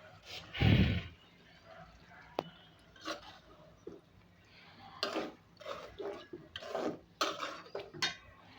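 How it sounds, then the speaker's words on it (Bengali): Beef tripe fries and is stirred in a pan for an Eid-style bhuna, with intermittent scraping, clinking and spoon-on-metal knocks over a soft background sizzle, heard up close. "একদম ভাজা ভাজা করে ফেলবো"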